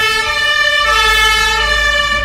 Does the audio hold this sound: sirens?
yes